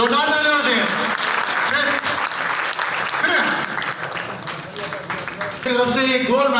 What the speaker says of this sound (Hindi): ये जोरदार तालियां होते हैं।